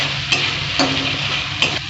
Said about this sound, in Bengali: আদা রসুনের গন্ধটা চলে গেছে, ভাজা ভাজা হয়ে গেছে।